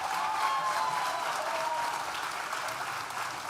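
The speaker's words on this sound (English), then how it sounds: "let's have a huge round of applause to thank NTU" Graduation ceremony audience at a Nottingham Business School event applauding steadily, a dense wash of many hands clapping at an even level throughout, slightly fading toward the end.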